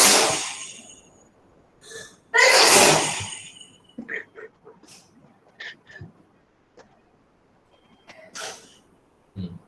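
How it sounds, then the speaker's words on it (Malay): A child sneezes loudly, with a couple of strong bursts near the start followed by quieter snorts, sniffs and breathy sounds scattered through the rest. "Anak saya bersin."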